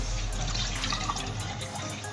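Water from cooked seviyan noodles pours off steadily in a continuous splashing, trickling stream, close and fairly loud, with no talking over it.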